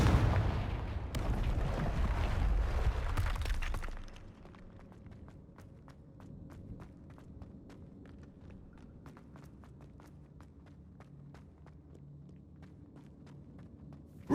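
A Confringo fire spell goes off in the Hogwarts Legacy video game: a loud, noisy burst for about four seconds that drops off sharply, leaving quiet ambience with faint ticking steps.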